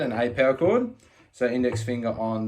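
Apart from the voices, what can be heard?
No everyday noise stands out behind the speech.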